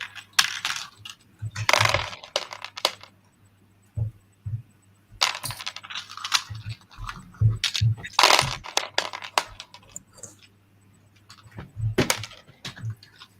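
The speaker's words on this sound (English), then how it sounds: "The sound you are hearing is minifigure heads." Small LEGO minifigure heads rattle and clatter in bursts, sharp plastic clicks and jingling tumbles coming close and moderately loud, with quiet gaps between handfuls and a low steady hum underneath.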